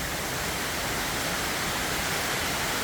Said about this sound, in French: Là, tu as la cascade de l'eau qui vient du sommet